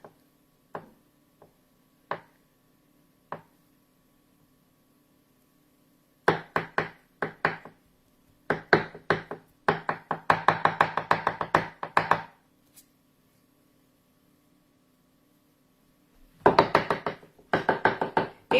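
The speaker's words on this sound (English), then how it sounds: "I could have chopped these with my egg chopper" Boiled eggs chopped with a knife on a cutting board for chicken dressing: a few separate taps at first, then bursts of quick, close knocking chops with short pauses between, with no talking.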